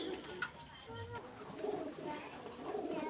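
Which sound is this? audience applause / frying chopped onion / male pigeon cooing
male pigeon cooing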